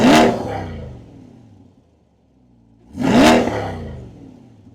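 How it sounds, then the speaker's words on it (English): A Chevrolet Corvette C8 Stingray's cross-plane crank V8 revs hard twice, each burst roaring up and then settling back to a low rumbling idle between them, loud and close. "We're gonna let you hear what these cars sound like when they're revving up."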